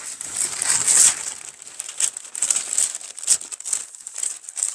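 Paper sewing pattern sheets for a high-neck vest crinkle and rustle as they are folded along a straight line, close crisp crackles in uneven bursts with no voice over them.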